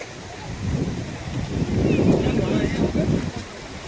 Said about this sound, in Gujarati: આખો પડતો ધોધ પડતો હે